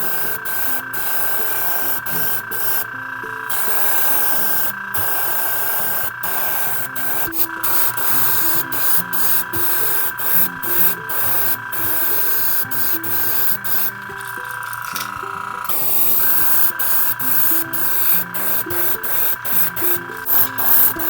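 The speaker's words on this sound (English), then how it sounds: "So we're just going to take our airbrush and spray at an angle." An airbrush sprays pearl white paint onto a jerkbait fishing lure, making a continuous airy hiss that holds steady throughout with brief pauses and small clicks.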